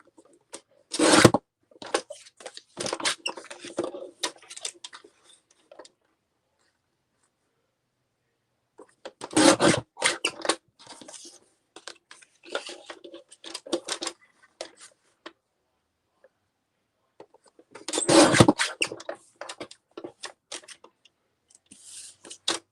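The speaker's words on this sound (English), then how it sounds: "So I'm going to cut this, I think, around about 1/2 inch" Paper being cut with scissors for window-faced pockets, three separate bursts of rasping snips spaced several seconds apart, close and fairly quiet, with silence between them.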